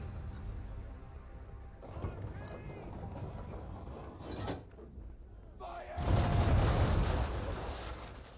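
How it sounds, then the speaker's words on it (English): Ship's cannons fire at an enemy vessel in Assassin's Creed III. Muffled thuds and rumble build to a heavy, booming broadside blast that fades out, mixed with creaking and voices in the background. "Now, aim all guns at her bow and do as much damage as possible."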